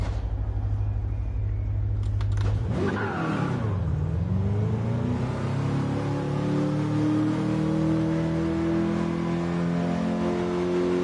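A car engine in the Gran Turismo 7 video game idles low, then revs hard and climbs steadily in pitch, holding a loud, sustained drone as the car powers out of a corner into a drift, with no talk.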